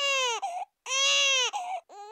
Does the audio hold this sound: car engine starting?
no